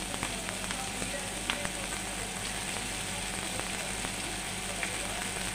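Chopped bottle gourd hits a hot pan, setting off a dense, steady sizzle that stays loud and even throughout with small crackles and pops scattered on top, no talking over it.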